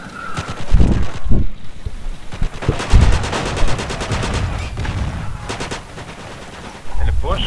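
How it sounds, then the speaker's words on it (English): MP40 submachine guns fire in the World War II video game Forgotten Hope 2 at Pegasus Bridge, with loud, rapid automatic bursts that repeat in quick succession and are interrupted by short pauses. "I get shot by MP40s"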